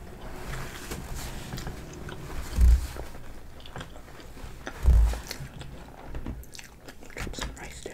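Close, crisp biting and wet chewing of Taki Macon sushi dipped in sauce, with two heavier bites standing out amid steady mouth sounds and smacking.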